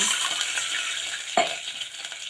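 Hot oil sizzling steadily with reddened ground garlic, a brief splash partway through as water hits the pan, followed by continued hissing and faint clinks.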